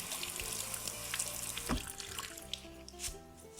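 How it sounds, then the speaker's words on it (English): Cold tap water streams steadily into a sink, pouring over lentils in a sieve, a continuous soft rush with faint splashes and no talking. "Just going to turn on the cold water,"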